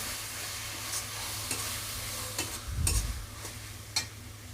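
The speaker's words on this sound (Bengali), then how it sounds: "এরপর আমি এর মধ্যে দিয়ে দিলাম ধনে পাতা কুচো ধনে পাতা আর ওই মশলাগুলো একটু ভেজে নেবো কিছুক্ষণ" Spices and chopped coriander leaves fry in a pan for a potato and paneer dish, a soft sizzle under scraping stirs, with one louder scrape near the end; quiet and close, no talking.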